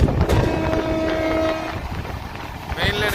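A passenger train hauled by a three-phase electric locomotive rumbles along with a steady rolling drone and faint tonal hums, the sound close and continuous from inside the carriage.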